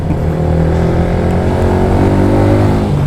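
A manual motorcycle engine-brakes in slow, hot traffic, its engine droning loud and close with a steady harmonic hum and no talking.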